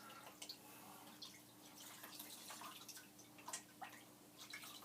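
Water dripping and splashing while a Commodore 1902 monitor casing is rinsed under a tap, irregular close patters and drips over a low running hum, no talk.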